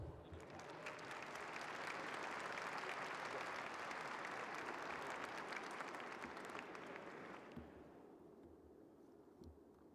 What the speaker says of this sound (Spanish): Para ella les pido por favor un caluroso aplauso.